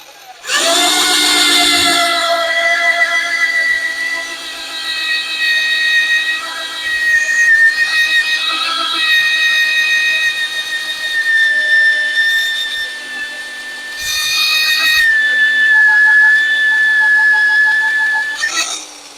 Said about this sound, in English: Put it in the hole, and then I always do a little stream oil, so it's trickling down to it, and then ream the hole.